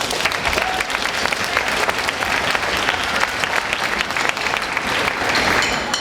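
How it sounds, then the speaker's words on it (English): A crowd at a school sixth-grade band concert claps steadily and enthusiastically for several seconds, a dense, sustained round of applause with no speech. "Can we give them a round of applause?"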